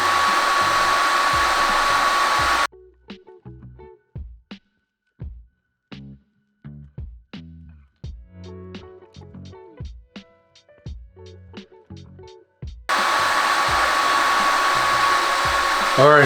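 90mm PC fans run at full speed on a low-profile CPU cooler, giving a loud, steady whooshing roar that cuts off into quiet clicks and bumps for about ten seconds before the blast resumes.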